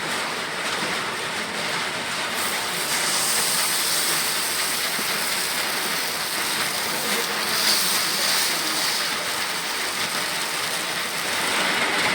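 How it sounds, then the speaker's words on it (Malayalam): Steady monsoon rain falls outside a Kerala home kitchen, a dense even hiss that holds at the same level from start to finish with no talk over it. "ഇപ്പോഴും മഴ ഇങ്ങനെ പെയ്തുകൊണ്ടിരിക്കുന്നതാണ്"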